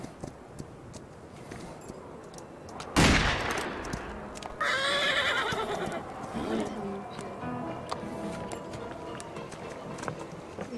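Horse whinnying in a Wild West video game, a loud sharp neigh followed by game sounds and rustling hoofbeats.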